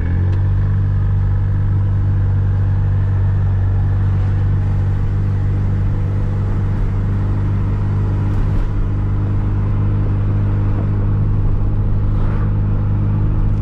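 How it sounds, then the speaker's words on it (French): Chatenet CH46-R microcar pulling away under acceleration, a steady loud low engine drone with rumble, heard from inside the cabin with no talking. "La voiture part plutôt bien."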